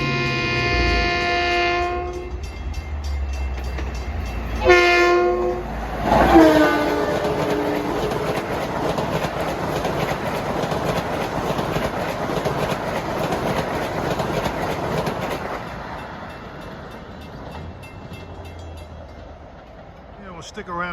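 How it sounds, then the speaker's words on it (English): An LIRR M7 electric express train passes eastbound on the Main Line near Bethpage and Hicksville, starting with loud horn blasts, then a long roar and clatter of wheels over rail joints that gradually fades as it recedes. "approaching eastbound at 6:53 is train 1966"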